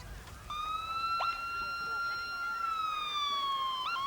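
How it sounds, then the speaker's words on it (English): A police escort siren wails in long, rising and falling tones at a Christmas parade, fairly close and clear, with faint background noise underneath and no talking. "with its police escort, lights flashing and sirens sounding"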